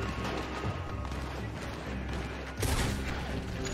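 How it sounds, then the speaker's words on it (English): Gunfire from the Red Dead Redemption 2 rescue mission, a dense run of shots and crashes layered under steady game sound, with a louder burst near the end. "Who else is shooting at me?"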